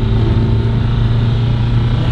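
A diesel engine running away on diesel fuel poured in instead of motor oil, held at a loud, steady, high-revving roar up close from start to finish.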